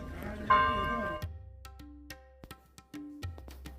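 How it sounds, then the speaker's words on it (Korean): Greek Orthodox church bells ring for worship at Corinth in Greece, with several resonant, decaying strikes at uneven intervals and a few sharp clangs in open air. "예배를 알리는 아름다운 그리스 정교회의 종소리"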